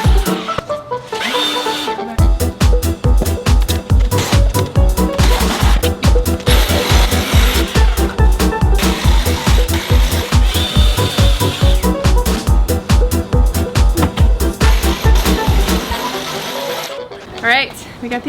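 A power saw cuts shiplap boards outdoors in a steady run of rapid, rhythmic buzzing strokes, loud and close, continuing for around fifteen seconds before the motor winds down.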